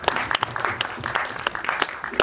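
Scattered applause from a small audience at a teaser and book launch event, with irregular claps close by and a few voices mixed in.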